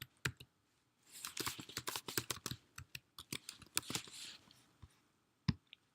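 Close, crisp keystrokes on a computer keyboard come in quick bursts with short pauses between them. The clicks get sparser and stop toward the end. No one speaks.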